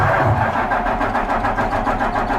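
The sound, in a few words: Cummins ISM diesel truck engine cranking and starting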